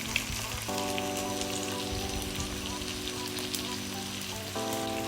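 Oxtail sizzles and fries in a pot for Jamaican oxtail with gravy, a dense steady crackle at close range under a sustained humming tone, with light stirring.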